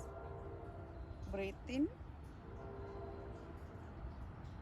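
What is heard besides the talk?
passing train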